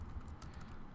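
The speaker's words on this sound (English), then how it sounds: "if we just go in and we just start typing" Quiet, steady typing on a computer keyboard with soft rapid keystrokes, heard alone at low volume with no speech.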